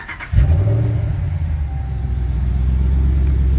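A 6.4 HEMI Ram 2500 with an FRP Hellfire cam cranks briefly outside, then fires and settles into a loud, deep rumbling idle, close and alone.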